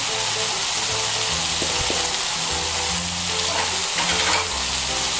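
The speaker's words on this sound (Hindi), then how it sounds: "भिंडियों को हमने मसाले में अच्छी तरीके से मिक्स कर लिए" Okra coated in masala fries in a pan with a steady, close sizzle, while a spoon stirs and scrapes at intervals throughout; no one speaks.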